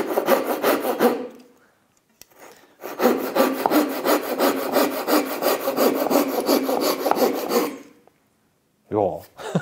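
A cheap folding Japanese pull saw cross-cuts a piece of maple, producing fast, even rasping strokes up close, a short burst, a pause, then a long sustained run of sawing before it stops.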